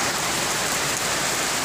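Steady rain falls over the village of Mentawak, a dense, even hiss that stays constant throughout with no voices or other sounds.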